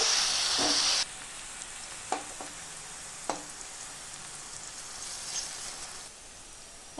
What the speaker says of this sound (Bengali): দিয়ে দেব একটা বড় সাইজের কুচনো পেঁয়াজ সবজিগুলো সেদ্ধ হওয়া পর্যন্ত ভেজে নেব